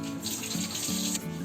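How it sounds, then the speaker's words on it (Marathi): Water drains from a bowl of soaked chana dal as a continuous close pouring and trickling splash, steady throughout the short moment with no voices. "आता आपलं पाणी काढून टाकले बघा"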